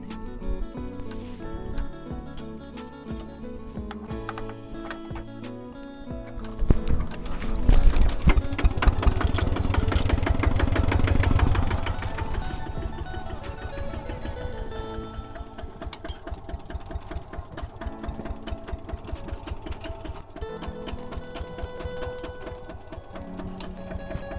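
A tractor engine chugs and rattles with a steady mechanical rhythm on a date palm farm, briefly surging louder midway before settling back to a running idle.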